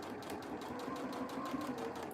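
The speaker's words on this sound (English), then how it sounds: "So don't forget to back stitch when you're beginning." A sewing machine back stitches fabric while sewing an ear saver, giving a quiet, fast, even mechanical chatter that holds steady throughout with no talking.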